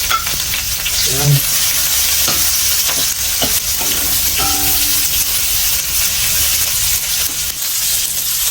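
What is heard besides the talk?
ginger being fried and sizzling in a pan for chicken adobo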